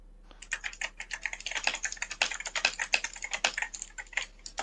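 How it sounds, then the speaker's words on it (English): Rapid, uneven clicking of fingers typing on a computer keyboard, close and fairly quiet, with no other sounds. "Someone is typing."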